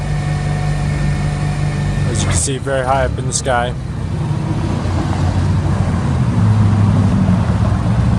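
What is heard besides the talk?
Toyota 8FGU25 forklift LP gas engine running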